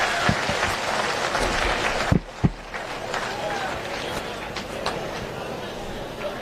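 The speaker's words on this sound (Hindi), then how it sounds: "जोरदार ताली बजनी चाहिए" An audience at a political event with the Prime Minister and a Chief Minister applauds, a continuous scatter of hand claps and crowd noise heard faintly beneath a speaker's voice.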